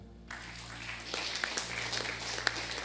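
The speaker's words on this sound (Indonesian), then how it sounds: "Tepuk tangan." Congregation applause during a church sermon, a steady wash of clapping from a large crowd filling the room with a few sharper claps standing out, over a low constant hum.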